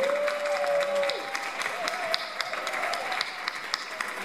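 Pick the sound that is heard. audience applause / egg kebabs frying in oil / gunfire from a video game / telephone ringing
audience applause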